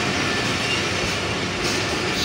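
The Nilsagar Express intercity train leaving the station at Saidpur on the Chilahati to Dhaka route, a steady loud rumble of rolling railcars and wheels close by, continuous throughout with no talking.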